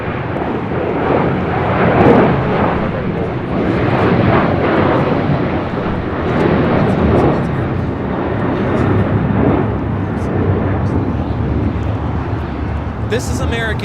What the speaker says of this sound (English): 1979 taking off to Chicago O'Hare on a 737-800